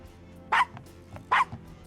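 A dog barks twice in the video game Gabriel Knight: Sins of the Fathers, two sharp, close barks under a second apart over a quiet background.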